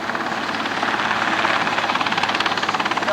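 A helicopter hovers close by at the 1990 Stardust Air Show at Cherry Capital Airport in Traverse City, Michigan, giving off a loud, steady rotor roar with a rhythmic blade chop that grows sharper toward the end.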